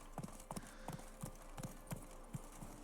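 Horse hooves clip-clop in a steady trotting rhythm in The Witcher 3 Blood & Wine, moderately close with faint background ambience and no talk.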